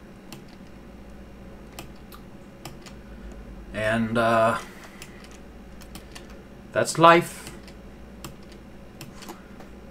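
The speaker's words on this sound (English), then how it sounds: "The mechanical keyboard to me is calming, and I like it." Mechanical keyboard typing heard as faint scattered clicks and taps throughout, with someone speaking briefly twice over them.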